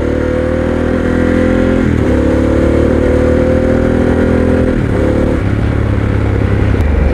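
Harley-Davidson Pan America adventure motorcycle accelerating, its engine note loud and close, rising in pitch through two gear changes over several seconds, steady and unbroken.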